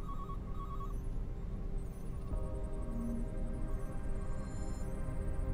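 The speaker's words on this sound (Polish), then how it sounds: "Dzwonią wszystkie telefony, nikt nie odbiera." Telephones ring inside the video game Deus Ex: Human Revolution, with steady electronic tones repeating over a continuous low hum of room ambience, and no one answers.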